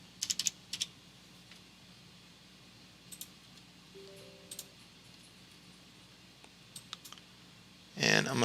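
Someone types on a computer keyboard to open the Windows registry editor, a few light, sparse key clicks in a quiet room, ending with a louder burst of rapid typing.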